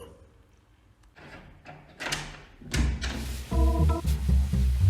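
A door is handled and opened: a series of clicks, knocks and a thunk, followed by louder rustling and clattering movement nearby.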